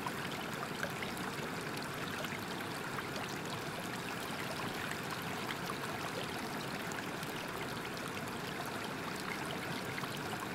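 A waterfall's steady rushing flow, a continuous broadband wash of falling and splashing water that stays even and unbroken throughout, moderately quiet and unaccompanied by voices.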